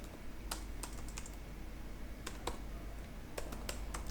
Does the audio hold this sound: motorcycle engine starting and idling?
no